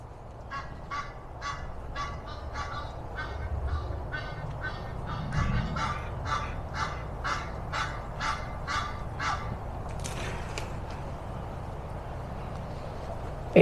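A flock of birds makes a racket on a garden house roof, a long run of loud, evenly spaced honking calls, nearby and goose-like, repeating steadily for about ten seconds over a low rumbling background.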